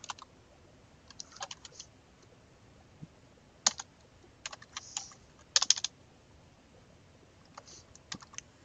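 A computer keyboard clatters as code is typed, with scattered close keystrokes arriving in short irregular bursts separated by brief pauses, all without talking.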